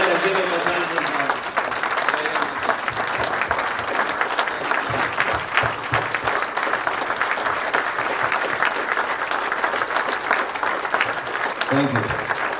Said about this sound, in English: Would you all please join me in a thunderous round of applause to Malkit for bringing us together this evening?